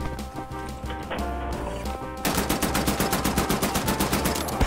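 Automatic assault rifle fire in the shooter game Wolfenstein: The New Order, rapid and rhythmic, loud and up close, over a busy bed of game sound.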